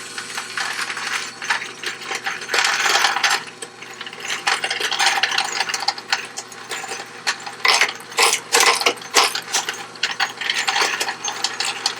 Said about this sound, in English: Alright, let's get these in the case feeder.